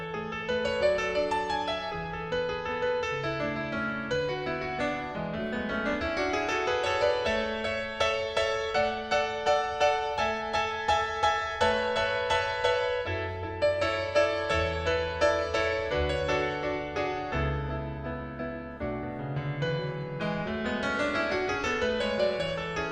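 Solo piano plays an original composition for over twenty seconds, a steady flow of melodic lines over sustained bass notes, close and full with no voices.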